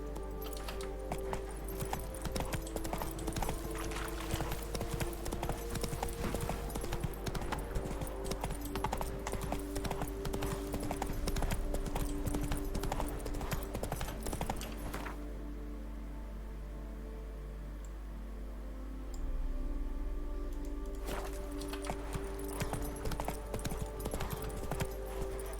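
Horse hooves clopping in a steady, continuous rhythm from The Witcher 3, over a constant low hum, with a brief quieter stretch midway and no talking.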